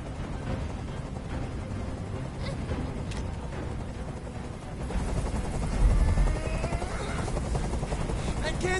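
A helicopter drones steadily overhead, a constant low rotor thrum that swells louder midway, with a voice heard faintly underneath.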